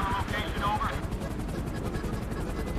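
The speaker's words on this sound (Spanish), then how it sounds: "Tengo tres helicópteros aquí, güey." Helicopters in GTA 5 at a military base, a loud, continuous rotor throb with rapid thumping pulses, joined by gunfire and someone talking over it early on.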